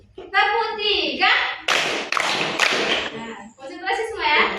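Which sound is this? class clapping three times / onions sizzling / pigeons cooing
class clapping three times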